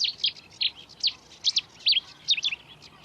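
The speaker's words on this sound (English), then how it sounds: "There are reed warblers singing away, sedge warblers singing away as well." Reed and sedge warblers singing nearby at a lakeside nature reserve, a series of quick, high chirpy phrases repeated in short bursts over a quiet background.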